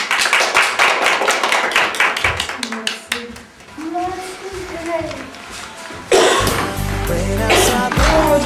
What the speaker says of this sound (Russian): Давайте друг другу похлопаем.